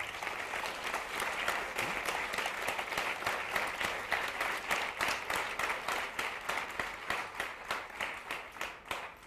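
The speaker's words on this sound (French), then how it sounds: "On peut les applaudir." An audience at a roundtable panel applauds the panelists, a steady wash of many hands clapping at close range that continues for several seconds, gradually thinning toward the end.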